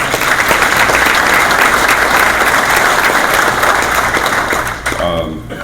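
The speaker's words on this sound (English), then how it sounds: "give a round of applause for the staff at Four Lakes for the breakfast this morning" A breakfast audience of emergency services members in St. Clair County gives sustained, loud applause for the staff at Four Lakes, a thick wash of clapping that fades out in the last second.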